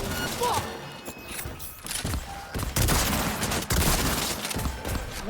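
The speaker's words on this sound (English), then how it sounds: "It's a homing shotgun." Shotgun blasts from a homing shotgun in the video game Cyberpunk 2077, loud irregular bursts of gunfire with mechanical clatter in a busy combat mix, and speech faintly present underneath.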